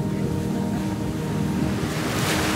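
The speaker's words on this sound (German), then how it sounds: "Das Auf und Ab der Wellen macht mir erwartungsgemäß sehr zu schaffen." Sea waves washing against a sailing yacht on the Baltic, a steady broadband rush of water and wind noise that swells slightly toward the end, loud and continuous with no voices.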